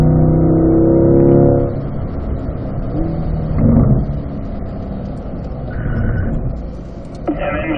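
A car engine on a driving course revs loud and close at first, then settles into a lower running drone that swells again briefly as the throttle opens, while someone talks over it.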